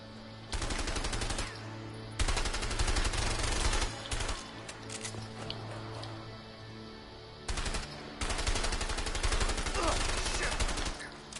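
Rapid bursts of automatic gunfire in the video game A Way Out, loud and sustained in several long volleys separated by short pauses, with a voice talking faintly underneath.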